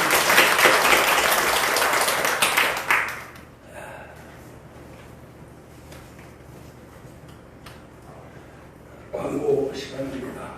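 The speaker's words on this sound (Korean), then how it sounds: "박수로 하나님께" Congregation applause during a Sunday church worship service, a dense burst of clapping for about three seconds that quickly dies away into quiet room noise, with a short renewed patter near the end.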